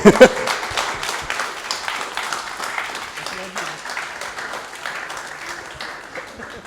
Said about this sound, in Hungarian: Szerintem tapsoljuk meg Stephanie Meyert még.